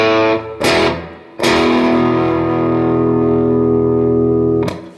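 Heavily distorted electric guitar plays the riff slowly: two quick chord hits, then a long sustained power chord ringing loud until it is cut off, with no talking.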